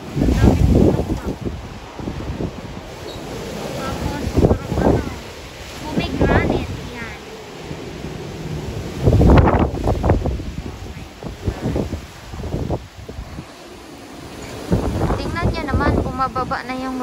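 Strong gusts of wind batter the microphone in loud, uneven bursts among flowering apricot and fruit trees, with rustling and a voice speaking intermittently underneath.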